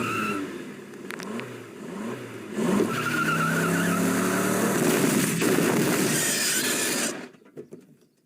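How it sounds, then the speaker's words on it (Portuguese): Peter's car in a Family Guy cartoon, an engine roaring and revving with screeching tire skids, loud and sustained for several seconds before cutting off abruptly into a few trailing thumps. "Agora no episódio Estrada para Rupert, vemos que Peter brinca com seu carro."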